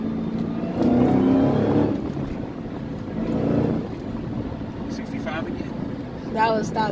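A modded Dodge Hellcat accelerates with a loud engine surge and a second pull a moment later, while occupants talk inside the car.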